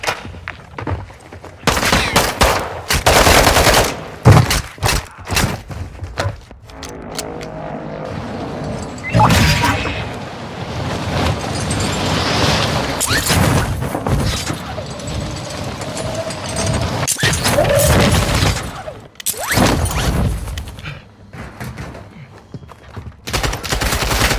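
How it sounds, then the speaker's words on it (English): Gunfire in the Warzone 2 video game on Ashika Island: repeated bursts of automatic weapon fire and single shots, loud and close, with booms and crashes mixed in and brief pauses between volleys. "I'm taking fire!"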